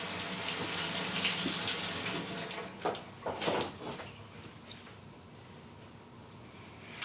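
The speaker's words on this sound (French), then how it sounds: "Tu es sous la douche?" Water runs steadily from a shower, a loud continuous hiss and spatter that thins and becomes irregular as the flow is interrupted, heard alone without talk.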